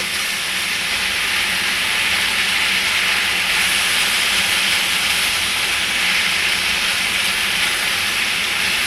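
Beef and onions cooking in a small pan for gyudon produce a loud, constant, broadband sizzle, even and close for the whole stretch, with no voices.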